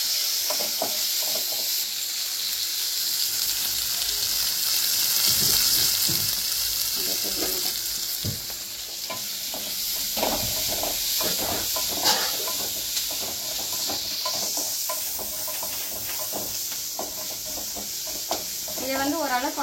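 Ingredients for mutton sukka sautéing in a hot pan, a steady close sizzle with scattered scrapes and stirring clatter running through, no talking.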